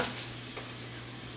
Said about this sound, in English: So I love that sound, that sizzle.